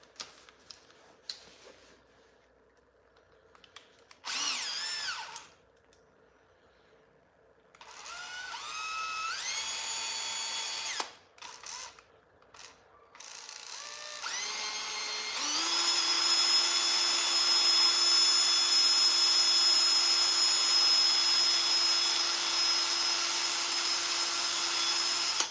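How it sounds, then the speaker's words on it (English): A power drill enlarges a plastic bushing on a snow blower, whirring in short bursts, revving up and stopping several times, then running steadily at a high pitch for a long stretch. "so we're going to drill that out just a little bit."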